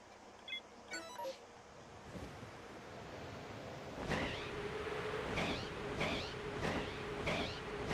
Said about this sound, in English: Kitties.